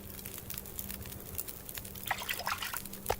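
Drinking water in The Long Dark, a faint trickling and gulping of liquid under quiet low ambience, with small splashy drips toward the end.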